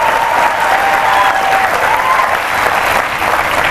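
Audience at a political rally applauding the teachers, a dense, steady wash of clapping and some cheering that holds loud and even throughout, close and filling the space.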